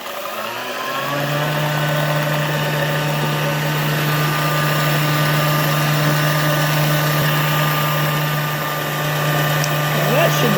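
An electric mixer runs steadily at a constant whine while blending pie filling for a banana split pie, loud and close, with a slight shift in tone near the end.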